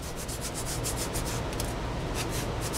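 Steady rasping scrub of 150-grit sandpaper rounding a radius on a motorcycle seat during a rebuild, continuous and close with regular back-and-forth strokes and no talk.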